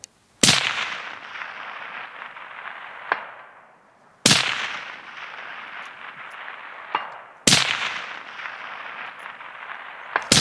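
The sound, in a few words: lightweight rifle shots fired in a string with a K95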